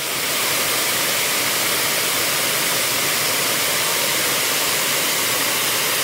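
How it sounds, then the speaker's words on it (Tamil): A small waterfall in the Yercaud foothills at Kurumbapatti roars steadily and up close, a dense, unbroken rush of falling water filling the whole clip with no voices. "இதுதான் அந்த அருவி, அதாவது அந்த குட்டி அருவி"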